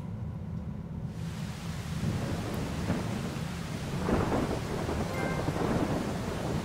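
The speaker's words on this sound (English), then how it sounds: "Well, of course it's raining." Steady rain hiss with low rumbling thunder rolls in a video game setting (Ico HD), a continuous storm ambience with a louder swell of rain and thunder partway through, no voices.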